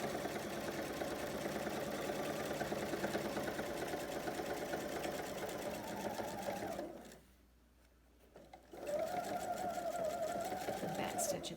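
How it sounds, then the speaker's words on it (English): A domestic sewing machine stitches steadily down the length of a fabric pocket, a continuous mechanical whirr that stops briefly, then resumes at a similar pace, close and clear. "Sew all the way down the length of our pocket."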